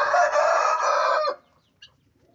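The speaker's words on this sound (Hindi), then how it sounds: "ये बेंटन की मुर्गी है और ये बेंटन का मुर्गा है।" A bantam rooster lets out one close, drawn-out crow that cuts off abruptly, followed by a single short cluck from the bantam hens.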